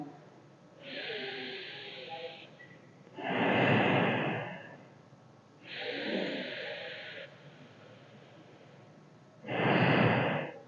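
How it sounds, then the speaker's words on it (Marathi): Slow deep breaths during a guided breathing exercise: alternating long inhales and strong exhales, close to the mic and fairly loud, roughly four breaths in a calm steady rhythm with no speech. "श्वास पूर्ण भरून घ्या."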